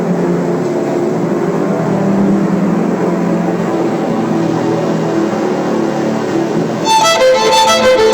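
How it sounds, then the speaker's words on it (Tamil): Vehicle engine revving as a sound effect in a school annual day drama, a steady continuous engine drone at moderate loudness with a brighter burst near the end. "நான் அந்த வண்டி எடுத்துட்டு வந்துடுறேன்"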